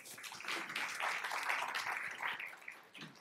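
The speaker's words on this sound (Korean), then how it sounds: "네, 박수 부탁드릴게요." Applause from an audience at a Korean startup venture forum, welcoming a company representative to the stage for a short pitch; steady, moderately distant clapping that fades near the end, with no talk.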